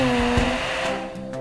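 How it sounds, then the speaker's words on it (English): A cartoon car-wash dryer blows a steady, fairly loud stream of air with a constant mechanical hum, with no talking. "Finally, a dryer to finish it off."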